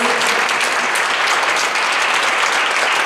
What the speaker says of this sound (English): A round of applause for our amazing MCs, sisters and brothers.